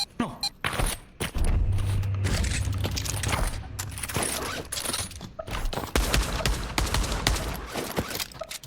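Gunfire in the virtual-reality shooter Pavlov on the Industry map, with loud close bursts of rifle shots, rapid fusillades and single cracks crowding the scene, plus occasional booms and mechanical clatter.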